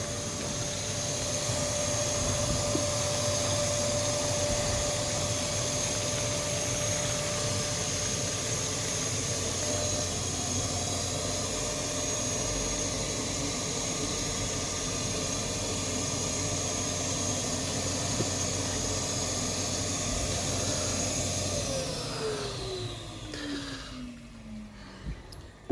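A pond vacuum runs with a steady, loud motor whine and broadband suction roar that holds evenly for most of the time, then winds down with a falling pitch near the end as it stops.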